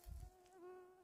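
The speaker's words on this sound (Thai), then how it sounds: "ยุงเยอะมากๆนี่ขนาดฉีดยากันยุงแล้วนะคะมันยังตอม" Mosquitoes swarming outdoors near mossy ground, a thin, steady high whine hovering close to the ear, faint and continuous after a brief low thump at the start.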